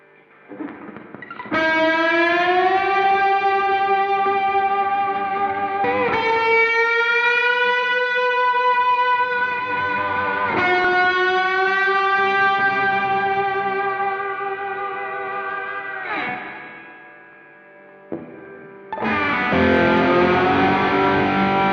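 Sustained gliding notes from a slide-played Bradcaster electric guitar, bending smoothly between pitches, drenched in reverb and echoing delay, loud and alone with a brief dip near the end.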